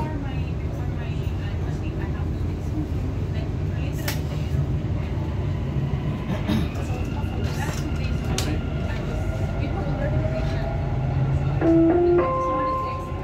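Dubai Metro train running between stations, a steady loud rumble and hum of the moving carriage with rising whines and squeals from the motors and wheels, with voices under the noise.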